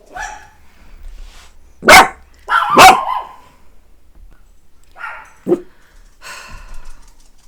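Dogs barking indoors at inflatable dachshund Christmas decorations outside: two loud, close bursts of barking, then a few quieter yaps and a short sharp bark with gaps of silence between.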